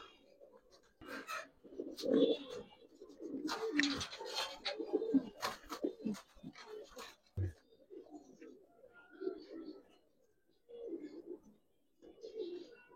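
Soft, throaty cooing of Giribaz breeder pigeons (khaki and silver) repeats at intervals near the microphone in a loft, with someone talking over it and some handling noise.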